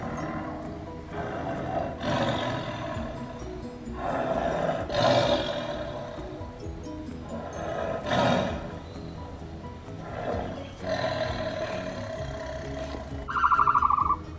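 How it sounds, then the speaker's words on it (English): A tiger roars repeatedly in loud, drawn-out bursts spaced a couple of seconds apart, close and alone with no talking. "Tiger."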